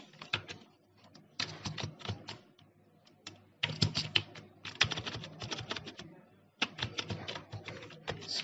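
Code is typed on a computer keyboard in rapid bursts of close, crisp key clicks separated by short pauses, no talking.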